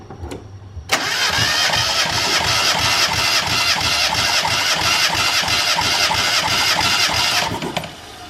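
A Mazda Miata engine cranks on the starter during a compression test, a loud rhythmic churning that starts abruptly after a short quiet lead-in and runs evenly for about seven seconds before stopping.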